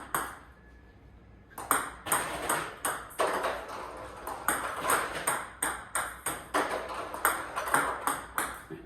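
A table tennis ball bounces and gets struck over and over in a quick, steady rhythm of crisp, close taps.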